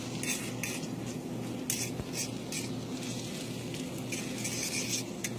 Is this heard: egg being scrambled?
yes